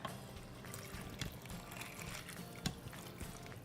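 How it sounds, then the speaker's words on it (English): Water pours steadily into a 6-quart pot of dry macaroni, a continuous splashing trickle with a couple of brief clanks, fairly close and moderately quiet. "And then we're gonna add about 1 cup of water."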